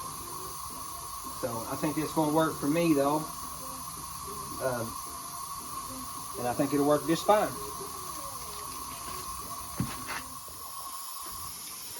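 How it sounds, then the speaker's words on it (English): A loud, steady high-pitched buzz of katydids droning throughout, with someone talking over it in short bursts. "these katydid things around my house is deafening."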